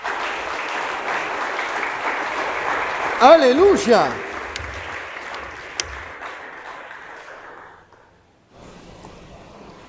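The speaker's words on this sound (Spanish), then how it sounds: "Puede dar un aplauso al Señor si tiene ganas." A church congregation applauds, with clapping spread through a worship service and a voice calling out over it. The applause fades toward the end, then goes quiet.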